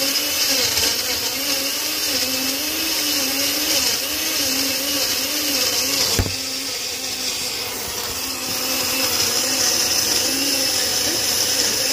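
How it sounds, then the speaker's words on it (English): A handheld blender whirs continuously while blending a smoothie, with a loud steady motor drone that pitches up and down as the load shifts. Partway through there is a brief knock. "And get our blender. Turn it upside down and get ready to blend."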